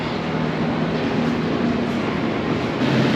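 Steady rumbling of a train at a Toronto station with a low hum and constant broadband noise, fairly loud and continuous, no talking.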